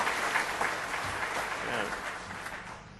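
Applause from an audience welcoming Congressman Greg Walden to a morning show event continues as a steady clapping wash, with a voice speaking over it.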